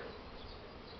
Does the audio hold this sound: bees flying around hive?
yes